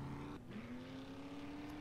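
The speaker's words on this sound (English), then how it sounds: "we'll drive around some more with the truck" Truck driving in the survival video game 7 Days to Die, a steady engine drone with a rising tone that holds loud and close throughout, with no talking.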